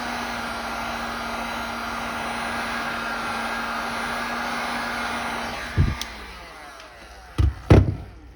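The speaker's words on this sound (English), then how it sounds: "Need a blow dryer or a heat gun." Steady blowing whoosh of a hair dryer heating the glass of a Samsung Galaxy S9 screen during disassembly, a constant hum running for several seconds before it cuts off, followed by a few sharp handling clunks close by.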